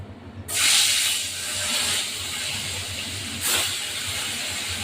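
Small carp pieces drop into hot oil with chili powder, coriander powder, onion and tomato, setting off a sudden loud sizzle that settles into steady hissing and then flares again.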